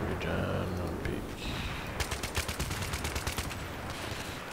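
Rapid G3A3 rifle fire in a Battlefield 3 team deathmatch on the Canals map, a quick burst of sharp repeated shots in the second half, over busy game noise with a voice talking.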